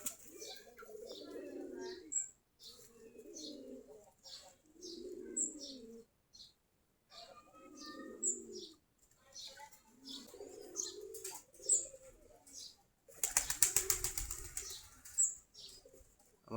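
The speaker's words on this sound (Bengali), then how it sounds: "আমাদের সবগুলা গিরিবাজ কবুতর, দেশি গিরিবাজ কবুতর।" Desi Giribaz pigeons flutter and flap their wings in repeated bursts, with soft cooing and occasional chirps between, close by; a louder flurry of wingbeats comes near the end.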